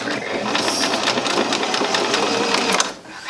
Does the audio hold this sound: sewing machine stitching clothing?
yes